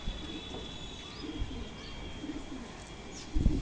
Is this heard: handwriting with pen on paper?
no